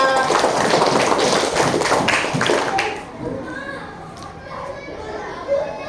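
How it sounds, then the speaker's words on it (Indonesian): Children in a fifth-grade primary school classroom clap for a classmate, a dense burst of close claps and kids' chatter lasting about three seconds, then fading to quieter room noise with scattered voices. "Tepuk tangan untuk temannya"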